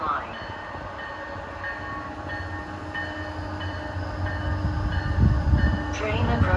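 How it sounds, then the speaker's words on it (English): MBTA commuter train 885 bound from Boston to Stoughton, hauled by a General Motors locomotive, drawing near a station with a growing rail rumble and faint horn tones, the noise building toward the end. "approaching at 6:18 p.m. is train 885 from MBTA, en route from Boston to Stoughton"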